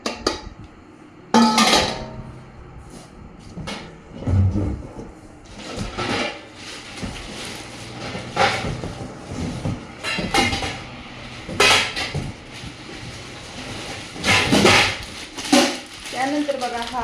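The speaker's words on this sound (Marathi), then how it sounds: "ही स्टीलची कढई मिळालेली आहे" A thick steel kadhai from a 30-piece cookware set is handled, giving a series of metallic clanks, knocks and scrapes at close range, scattered irregularly with quieter gaps between.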